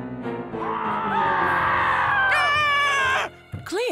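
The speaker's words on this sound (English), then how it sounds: "what is all this screaming going on here?" Loud, sustained screaming from a monster movie playing on TV, several shrill voices wailing together for about three seconds before breaking off, followed by a brief rising cry.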